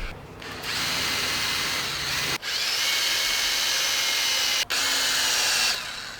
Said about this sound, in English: we're just gonna get a wire brush, get rid of all the rust on it